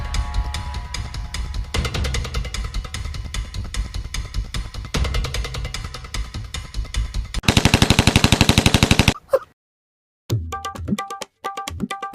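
Gunfire in the mobile battle game Free Fire: rapid, loud automatic bursts, then a very fast rattling volley, a brief silence and a few final electronic tones.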